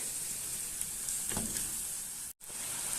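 Cubed chicken breast, about 300 grams, sizzles steadily in a hot pan, a continuous bright frying hiss with a brief stir around the middle and a momentary cut near the end.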